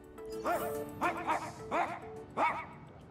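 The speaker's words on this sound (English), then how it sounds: "Investigate the righteous barking of a dog." A video-game dog barks four times in a fairly even rhythm, each bark short and bright, over a steady low hum.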